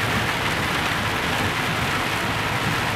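Steady, heavy rain falls with a dense, even hiss on surfaces, loud and constant throughout, with no voices.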